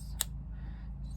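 Scissors snipping crochet yarn, one short sharp snip near the start, close and distinct over a low background hum, followed by faint rustling.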